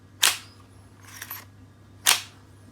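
An AKA74-MS airsoft rifle's blowback system cycles in three sharp mechanical bursts: a crisp snap, a softer rattling clack about a second later, then another crisp snap, each close and loud over a faint steady hum.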